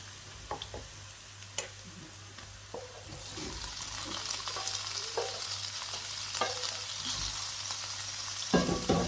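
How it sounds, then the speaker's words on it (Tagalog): Shredded boiled chicken sautéed with browned garlic in a pan: a steady frying sizzle with repeated clicks and scrapes of stirring, swelling louder toward the end. "Igisa lang natin dito."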